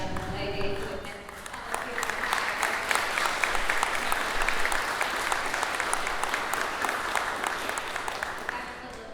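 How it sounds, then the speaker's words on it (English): An audience at a Veterans Day tribute applauds, a dense steady wash of clapping from many hands that holds evenly throughout and fades slightly at the end. "we deserve another round of applause for this very special young lady"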